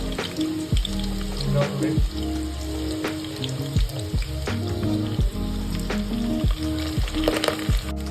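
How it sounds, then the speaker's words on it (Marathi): Curry leaves sizzling in hot oil as a tempering for dahi kadhi, a loud steady frying crackle with spattering pops, while a voice talks over it. "आपण कढीपत्ता टाकलेला होता त्याचा तडका झालेला आहे"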